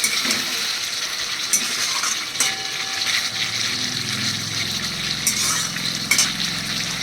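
Rohu fish curry masala sizzles steadily in a pan, close and fairly loud, with a continuous frying hiss, occasional utensil clinks and stirring, no talk.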